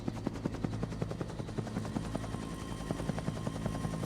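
Helicopter in a Dino Crisis video game cutscene, a rapid rhythmic rotor chop over a steady mechanical drone, fairly faint and continuous.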